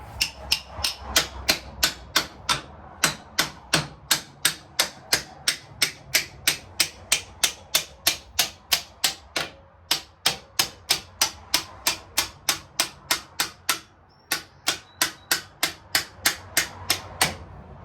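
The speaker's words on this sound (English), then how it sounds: "You just take a little hammer to it." A small hammer taps a part into place on an LTR 450 motor, a steady, rapid series of sharp metal strikes, dozens of even knocks with one brief pause, close and clear.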